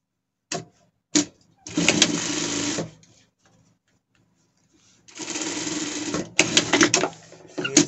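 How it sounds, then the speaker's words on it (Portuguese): An overlock sewing machine stitches fabric for a children's costume in short bursts: two quick taps, a whirring run of about a second, a pause, then a longer run followed by several choppy stop-start spurts, close and clear with no talking. "Mas a gente vai ir na overlock aqui."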